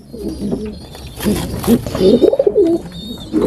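French meat pigeons coo repeatedly and fairly close in a breeding cage beside newly hatched squabs, the throaty calls rising and falling over faint background noise.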